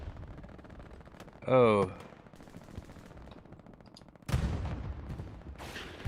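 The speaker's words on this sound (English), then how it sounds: "I see artillery coming down there." Gunfire crackles in a match of the video game Hell Let Loose on the Carentan map, with a short rattling burst. A heavy artillery blast follows, then rumbling impacts, and a voice briefly exclaims.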